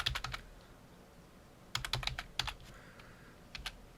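Short bursts of typing on a computer keyboard, a few quick clusters of key clicks separated by pauses, close and fairly quiet in a still room.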